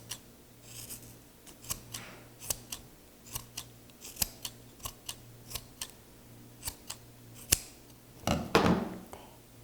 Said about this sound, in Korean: 모시가 엄청 질겨서 큰 가위로 잘라주는 게 좋겠죠